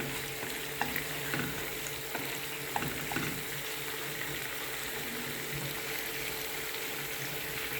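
A constant close sizzle of zasmazhka frying with pomegranate sauce fills the whole stretch, broken only by light scattered pops and occasional stir clicks, with no speech.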